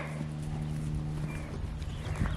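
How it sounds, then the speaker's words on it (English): Several horses running together on a farm, a dense rumble of hoofbeats and clip-clop steps that stays steady and close throughout, with no talking over it. "Now we got a herd of horses running."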